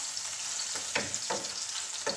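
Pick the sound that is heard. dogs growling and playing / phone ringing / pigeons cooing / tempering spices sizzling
tempering spices sizzling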